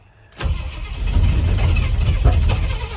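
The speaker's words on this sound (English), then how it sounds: "Timing's a little bit off, probably. Backfire." A car engine cranks and catches after a silent moment, then runs loud and close with rough, uneven idling, and a sharp backfire pop near the end.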